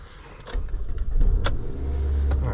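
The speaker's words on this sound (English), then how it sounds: "Alright, car starts right up." A 2007 Toyota Camry with intermittent stalling and an aftermarket MAF sensor cranks and starts, with a brief mechanical click and rattle before the engine catches and settles into a steady low idle close by.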